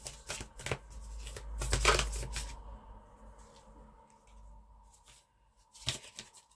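Moonology oracle cards being shuffled by hand at close range, with bursts of riffling and snapping deck sounds around the second mark, a quieter stretch of soft sliding, then another short flurry near the end, with no talking.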